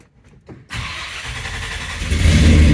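A car with a cold engine, left in neutral, cranks briefly and then fires up, settling into a loud, steady low idle that swells slightly toward the end, with no talking over it.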